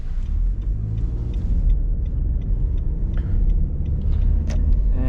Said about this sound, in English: you can hear that CVT whirring away, and it's not that bad, but it's definitely noticeable